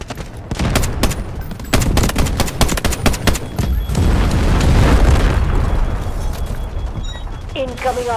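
Artillery shells and gunfire crash through a large-scale Delta Force battle, a dense run of sharp booms early on giving way to a continuous rumbling roar of explosions, loud and close, with a few mechanical creaks near the end.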